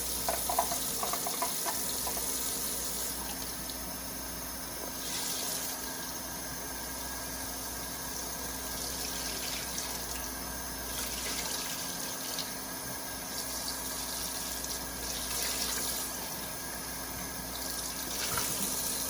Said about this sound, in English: So I'm just gonna wash it with cold water